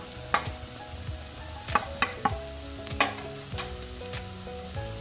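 Spoon stirs turmeric, red chili, salt, coriander powder and garam masala into ginger garlic paste frying in a pan for prawn masala, giving a quiet steady sizzle broken by several sharp scraping clinks of the utensil.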